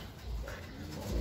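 A racing pigeon, just returned to its loft during a derby race, coos softly and steadily against a noisy outdoor background for a brief moment.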